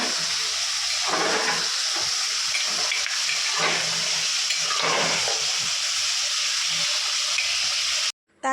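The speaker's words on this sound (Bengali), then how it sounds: "এখানে মা মাটন রান্না করছে।" Mutton frying in a pan, a steady close sizzle and crackle holding through the whole stretch, with faint stirring underneath and no talk, cutting off abruptly at the end.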